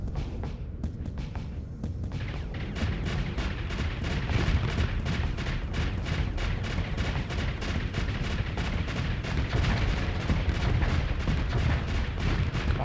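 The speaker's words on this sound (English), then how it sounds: "flak cannons will do some damage." Flak cannons blaze away in a Starsector space battle, a dense, continuous barrage of rapid booming shots and explosions that stays loud and unbroken throughout.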